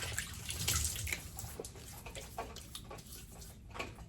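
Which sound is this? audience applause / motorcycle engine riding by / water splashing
water splashing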